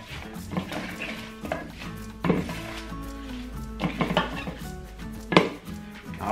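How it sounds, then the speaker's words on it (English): Shredded cabbage layers go into a mixing bowl for Asian pickled cabbage and are tossed together, giving soft scattered thumps and light clatter at a moderate level over steady background music. "So I put all the rest of the cabbage in here."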